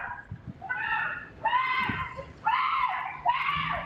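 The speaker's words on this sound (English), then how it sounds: "These are the screams of a postal worker as she's confronted by robbers in San Francisco's Mission District." A postal worker in San Francisco's Mission District screams repeatedly while confronted by robbers, a series of shrill, sustained cries in rising bursts, moderately near with faint background noise.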